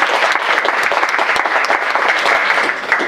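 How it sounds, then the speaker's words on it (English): Loud, dense round of applause from a panel-discussion audience, many hands clapping continuously and close for about three seconds with no talk. "Let's give them a round of applause."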